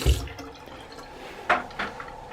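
Water runs from a hotel bathroom sink tap, giving a soft, hissy trickle with a couple of brief splashy surges after a knock at the start.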